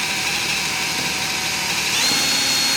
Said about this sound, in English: So our pilot holes are drilled on this one.